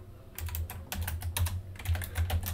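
Fingers type on a computer keyboard while entering network switch configuration commands, giving quick irregular bursts of close key clicks with brief pauses between them.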